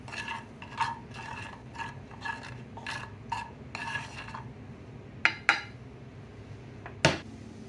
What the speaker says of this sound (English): you're going to do this for about a minute and a half till the garlic gets a little soft